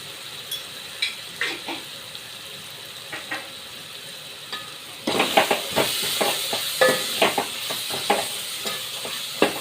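Coriander powder and spices for sambar, with soaked tamarind pulp, sauté in a pan: a quiet sizzle with soft stirring scrapes, then from about five seconds a louder, busier frying hiss with repeated spatula strokes.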